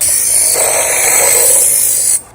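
An inexpensive electric knife sharpener grinds a blade in its coarse slot, making a steady, close, high-pitched abrasive whir that runs unbroken for about two seconds before cutting off.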